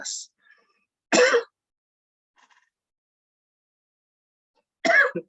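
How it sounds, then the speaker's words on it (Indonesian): Two short, harsh throat clears or coughs about four seconds apart, separated by near silence, close to the listener. "Maafkan, tiba-tiba saya jadi batuk-batuk."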